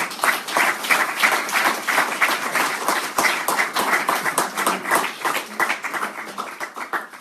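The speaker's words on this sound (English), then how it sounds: "Let's give the Lord a round of applause." Dense applause from a church congregation fills the space with rapid, overlapping claps, steady and fairly loud from start to finish, slowly thinning toward the end.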